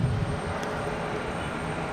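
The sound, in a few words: Endeavor Embraer E175 jet arriving from LaGuardia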